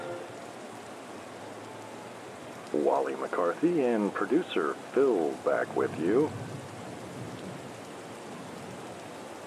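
Light rain falls on Evermore Field, a baseball ballpark, as a steady soft hiss running through the whole stretch, with a voice talking over it in the middle.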